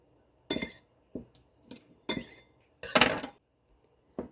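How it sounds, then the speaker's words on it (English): A knife chops garlic cloves over a bowl of butter with a few separate, sharp taps and clinks spaced apart, each short and fairly close. "now I am just going to mince 3 cloves of garlic into it."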